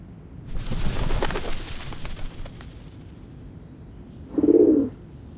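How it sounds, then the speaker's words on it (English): Doves at the Whitestone House in the Reverse 1999 video game give a short low coo near the end, after a burst of broadband rumbling noise. "The doves of the Whitestone House are here."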